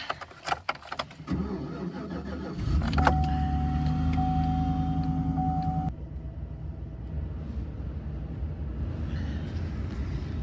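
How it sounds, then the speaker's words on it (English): An old truck is cranked and started at seventeen below zero while truck camping in Michigan's Upper Peninsula: clicks, a grinding starter, then the engine catches and settles into a steady rumbling idle, heard close from inside the cab. "I'll go start my truck."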